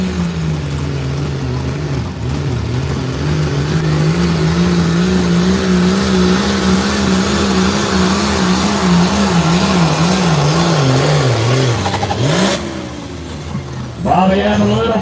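A 6,200-pound small block pulling truck at a night truck and tractor pull, engine roaring loud and close with wavering revs for about twelve seconds, then a sharp drop and a fresh surge, an announcer's voice over it.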